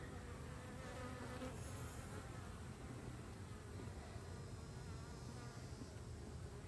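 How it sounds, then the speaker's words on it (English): Honey bees buzz on hive comb during a hive inspection, a dense, steady swarm hum at close range that continues without a break and with no talk over it. "they are packed with bees."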